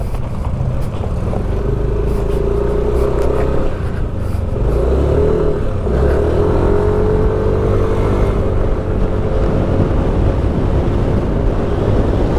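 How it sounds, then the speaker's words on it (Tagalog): A Yamaha Nmax Version 2.1 scooter from 2021 runs at full throttle on a road leaving a subdivision, its engine drone loud and continuous under heavy rushing wind noise. "Full throttle na yan, ha?"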